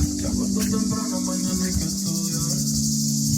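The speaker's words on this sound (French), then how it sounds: "On va profiter du son de la nature et des cigales." Cicadas singing outdoors on a summer day, a dense, steady high buzzing drone that fills the whole stretch alongside a constant low hum, with no talk.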